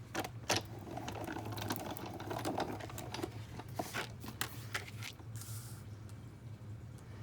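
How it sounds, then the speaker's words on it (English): Paper cranked through a die cut and emboss machine while making an embossed garden greenhouse card, giving a steady close mechanical whirring with rhythmic clicks and a low hum throughout, no talking. "we're gonna run that through our die cut and emboss machine"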